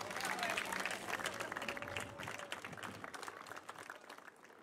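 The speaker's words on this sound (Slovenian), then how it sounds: "Dajmo jim en vzpodbuden aplavz" An audience applauds third-grade pupils of OŠ Mladika about to perform at the opening of an underpass in Ptuj. The clapping is dense and sustained, close and fairly loud, easing slightly toward the end.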